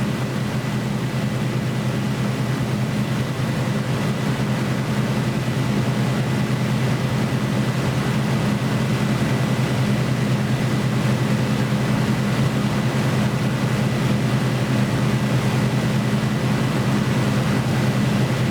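Piston engine of a simulated Supermarine Spitfire Mk Ia drones at a steady, loud, continuous pitch while flying a runway pass and circuit, with no voices.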